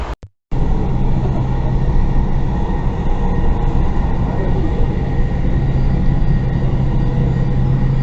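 A Dubai metro train rumbles steadily on its track, loud and close, a continuous rolling roar after a brief moment of near quiet at the start.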